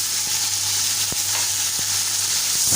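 Onion and ginger garlic masala for Lahori chikarh cholay sizzles loudly in the pot after water goes in, a constant hiss broken by a few sharp spoon taps.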